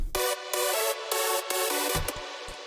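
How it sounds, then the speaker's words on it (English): A heavily detuned hypersaw layer of a hardstyle lead synth plays a bright, buzzing chord in short rhythmic stabs with gaps between, ending on clipped shorter hits, with no voices. "heavily detuned hypersaw on the"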